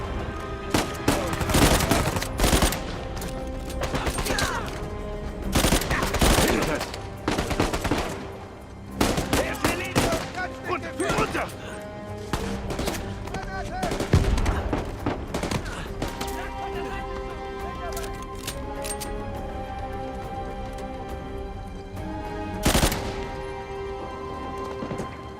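In the Uncharted 4 video game, bursts of rapid automatic gunfire and single shots crack out repeatedly, interspersed with crashes and impacts, over game music and sound effects, heaviest early and thinning out later.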